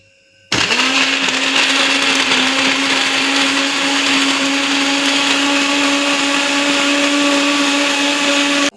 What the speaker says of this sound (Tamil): தண்ணி கொஞ்சமாக ஊற்றிட்டேங்க ஊற்றிட்டு அரைச்சிக்கலாம்